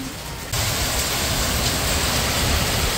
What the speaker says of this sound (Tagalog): Grabe, lakas po ng ulan.